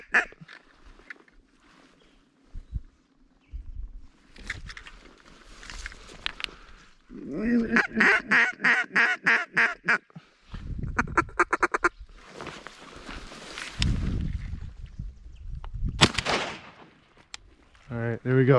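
Wild ducks quack over a small patch of public-land water during a solo duck hunt, with bursts of loud, rapid calls near and farther off, some rhythmic quack runs, and someone talking between them.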